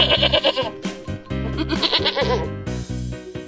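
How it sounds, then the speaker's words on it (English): A goat bleats several times, loud and close, with wavering cries that run into one another, alone without speech. "9. Goat."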